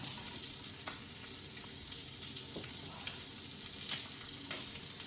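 Prawns searing in a hot pan toward caramelization give off a steady, fairly quiet sizzle, broken by sharp crackling pops every second or so, with no voices.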